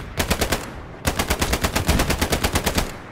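Rapid automatic gunfire in a video game comes in two close bursts: a short volley followed, after a brief gap, by a longer, evenly paced stream of shots, loud and dry with no talk.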